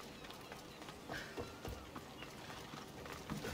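Horse hooves clip-clop in Assassin's Creed Odyssey, a quiet uneven patter of galloping steps under faint game ambience with soft scattered thumps.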